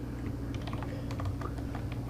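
Code is typed on a computer keyboard, a run of rapid, irregular key clicks at close range over a steady background hum, with no talking.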